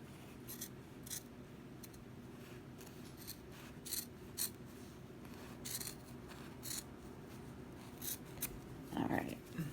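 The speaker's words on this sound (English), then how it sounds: "My scissors need to be sharpened." Quiet, irregular snips and rasping cuts of dull scissors through quilt binding fabric, with soft rustling between strokes and a slightly louder scrape near the end.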